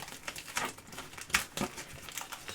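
Crinkly plastic packing-list pouch being torn and peeled off a Dell XPS 8930 desktop box, a close run of sharp crackling rips and crumples with brief pauses, no talking.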